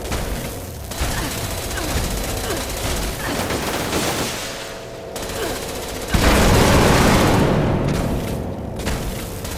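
A Guardian weapon in Fallout 76 fires in sustained, dense bursts of rapid automatic shots with booming impacts, loud and continuous, growing heavier near the end, while a voice talks underneath.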